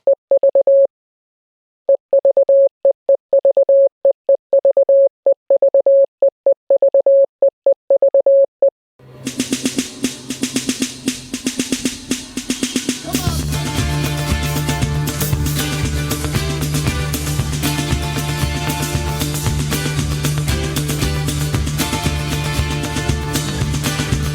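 A sequence of steady electronic Morse code beeps in dots and dashes, spelling E, V, E, plays alone with short gaps, then gives way to loud orchestral music.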